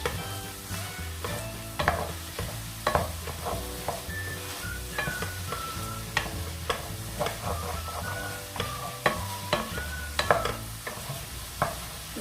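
Moroccan zaalouk is stirred in a pan with a spoonful of olive oil, a continuous low sizzle broken by repeated scraping and clinking of the utensil against the pan over about twelve seconds.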